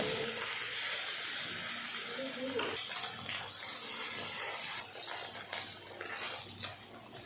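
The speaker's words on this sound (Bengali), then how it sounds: "একইভাবে সব মাছগুলো আমি ভেজে নেব" Fish frying in hot oil in a wok for a mustard-greens fish dish, giving a steady, soft sizzling hiss throughout, with a faint voice briefly underneath.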